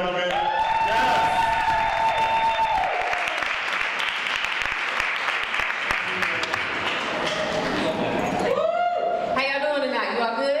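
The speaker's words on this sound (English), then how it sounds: "Ladies and gentlemen, clap it up for Nia, ladies and gentlemen." An audience at an evening food, art and entertainment show claps and cheers loudly and continuously, a dense wash of applause with a voice speaking over it.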